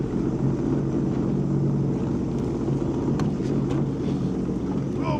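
A Sea-Doo personal watercraft engine runs steadily near the grotto at Tobermory, a constant droning hum with wind buffeting across the whole stretch.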